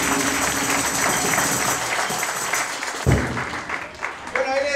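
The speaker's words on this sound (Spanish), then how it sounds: "fuerte el aplauso" Audience applause for the director of an orchestra at a cultural performance, a steady crowd clapping that runs under a speaking voice and thins out near the end.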